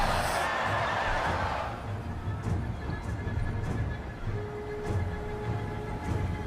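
A horse neighs in a medieval battle video game, a loud whinny at the start over low rumbling ambience, followed by a few faint hoof clops and scattered clanks.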